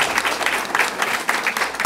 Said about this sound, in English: Round of applause for Father Mike.